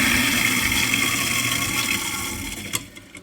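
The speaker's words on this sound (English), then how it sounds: "And I need to turn on my disposal." Kitchen garbage disposal running with water inside, a steady, loud, close roar with a low motor hum that eases off near the end.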